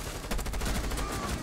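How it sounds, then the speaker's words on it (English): Rapid bursts of gunfire in the tactical shooter game Rainbow Six Siege, a dense loud stream of shots firing blindly through a doorway, filling the whole moment. "I'm just shooting blindly."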